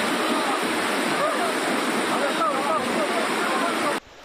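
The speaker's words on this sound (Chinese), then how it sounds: "湍急的溪水不断把他们往下游冲" A swollen, rain-fed mountain creek in Taiwan's Ren'ai area after a typhoon, roaring as a steady, dense rush of turbulent water that is loud and close throughout, cutting off abruptly near the end, with a few faint voices beneath.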